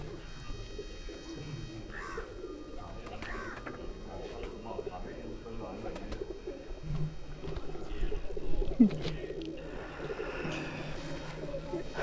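Fancy pigeons in a loft coo softly and intermittently against a murky background of low murmuring noise and faint voices.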